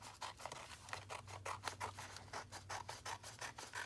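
Repeated scissor snips cutting through expensive sticker-making sheet material, a steady rhythm of short crisp cuts close up with a low hum underneath.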